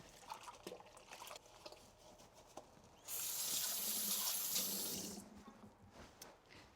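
Water runs steadily from a kitchen sink tap while hands are rinsed, a close, broadband rushing that lasts about two seconds and then stops, with faint kitchen clatter before and after.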